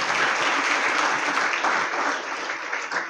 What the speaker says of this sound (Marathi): आपल्या स्वतःसाठीच एकदा आपण आनंदाने टाळ्या वाजवूया.